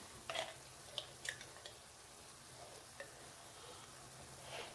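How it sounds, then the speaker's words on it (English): Minced garlic drops into a hot pan and fries with a faint, steady sizzle, broken by a few light clinks and scrapes of a utensil, quiet and continuous. "We're going to add the minced garlic."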